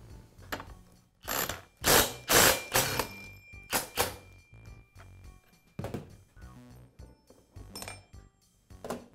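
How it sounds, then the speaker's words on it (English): An impact driver hammers loose the reverse-threaded clutch on a Poulan chainsaw, giving loud bursts of rapid ratcheting clatter that stop and start several times, with metallic clinks between bursts, close up and with no talking. "Then I'll use an impact driver to remove the clutch."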